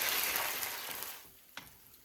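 Ginger and garlic paste frying in a pan with onions, a steady soft sizzle that gradually quiets, with a small clink near the end.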